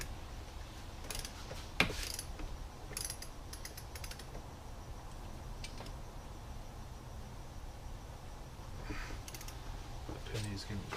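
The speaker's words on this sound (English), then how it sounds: "we're gonna go ahead and start torquing these down" Torque wrench tightening engine bolts on a Yamaha Raptor 700, soft ratcheting clicks in scattered bursts with one sharper metallic click, fairly close but quiet over a low background hum.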